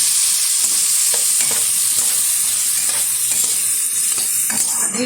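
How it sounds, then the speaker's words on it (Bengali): Diced potatoes with a pinch of turmeric and greens fry in hot oil in a wok, giving a loud, steady sizzle with stirring scrapes and clacks throughout, no voices. "তেলটা গরম হয়ে গেছে, তেলের মধ্যে দিয়ে দিচ্ছি খুব সামান্য পরিমাণে একটু হলুদ গুঁড়ো, দিয়ে দেবো কুচিয়ে রাখা আলু"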